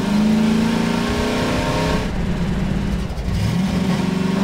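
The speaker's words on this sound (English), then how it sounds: "let's see if I can drive the car out" Car engine in Half-Life 2 revving loud and steady with a rising then falling pitch as the vehicle drives, a brief dip in the middle, with no talking.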